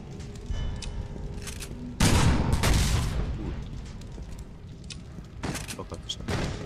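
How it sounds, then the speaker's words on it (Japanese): Dynamite blasts in the Resident Evil 6 video game, with a loud boom bursting in at about two seconds and a second, smaller blast near the end, both over continuous game background noise. "ダイナマイト持ってるのを爆発させないと。"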